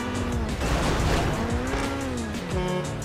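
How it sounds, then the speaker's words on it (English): A car drifts in GTA 5, its tires squealing loudly over a revving engine whose pitch dips and climbs as it slides, close and continuous with a short break in the middle. "I'm trying to hit a nice drift here"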